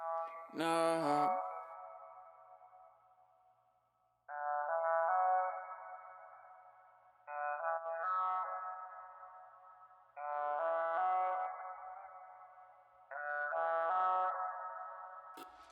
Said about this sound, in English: You hear now how the reverb is swelling up because there's the release time of the compressor.